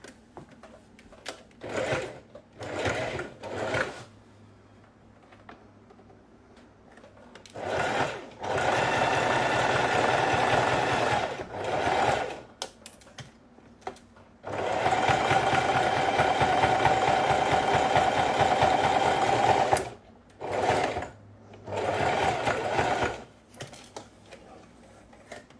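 A sewing machine runs a zigzag stitch in several bursts of fast, even mechanical chatter, some short and some lasting several seconds, separated by quiet pauses, up close with no talking.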